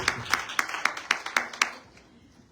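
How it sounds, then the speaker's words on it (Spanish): A short burst of audience applause at a talk and concert event, with several sharp claps in quick rhythm that fade out after a couple of seconds. "Pues les pido un aplauso nuevamente a Mara."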